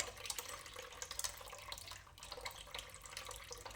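Water poured over soaked black-eyed peas in a bowl to float off the loosened skins, a steady close splashing and trickling that runs without a break.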